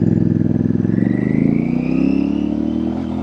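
A Royal Enfield Super Meteor motorcycle with center foot and forward controls rides along a bridge, its engine a loud continuous throb with rising pitch as it accelerates, wind and road noise underneath, no voices.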